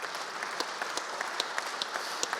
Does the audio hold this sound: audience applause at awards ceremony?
yes